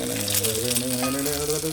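An iron pan sizzles and fries continuously while being seasoned, with a dense crackling hiss throughout and a voice faintly audible underneath.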